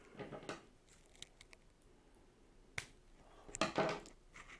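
Scissors snip off the tag end of a fishing line after a knot is tied, giving a few faint, sharp clicks up close in a quiet room.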